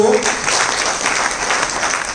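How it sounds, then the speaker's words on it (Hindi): Seminar audience in Jaipur or Bhilwara clapping, a dense, steady burst of many hands filling the hall, loud and close, with a voice briefly audible at the start. "ताली मत बजाओ"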